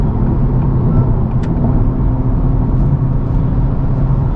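Steady low drone of an Acura with a manual transmission cruising at 70 mph in fourth gear, a constant engine and road rumble inside the cabin with no talking.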